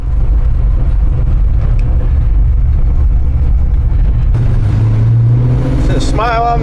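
A 1969 El Camino Super Sport with an LS 427 engine idles high and steady, loud and close; the idle holds its pitch and ends with a brief rise in revs, and someone talks over it.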